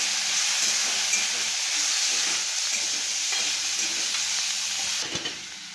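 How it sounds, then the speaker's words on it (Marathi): Moong dal sautéed in a pan with golden-fried chilli and garlic makes a steady close sizzle with stirring scrapes, fading and thinning over the final second. "त्याच्यात मी आता डाळ टाकते ही मुगाची। परतून घेते।"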